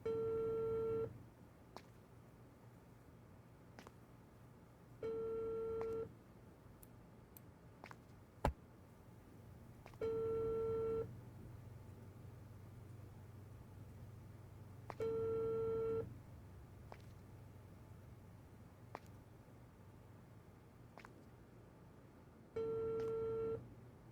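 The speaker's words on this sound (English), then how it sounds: "Lots of people trying to phone each other" Several telephones in a room ring in repeated bursts at about five-second intervals, with busy-signal tones and occasional clicks over a steady low hum, and no one speaking.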